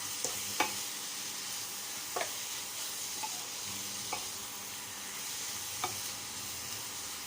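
Pad See Ew with wide rice noodles and dark soy sauce frying in a pan, a steady sizzle broken by scattered scraping and clinking strokes of a spatula as the noodles are stirred.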